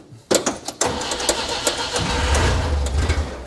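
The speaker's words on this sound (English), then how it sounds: "let's get the dirty old Nissan little lifter going" An old, dirty Nissan lifter being started: a few clanks and sharp knocks, then the engine catches and settles into a loud, low, steady rumble close by.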